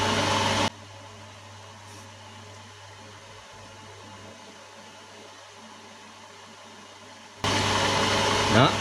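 A milling machine spins a homemade lightweight long-shank slitting saw, giving a steady, even motor hum that runs for several seconds between louder bursts of noise at the start and end.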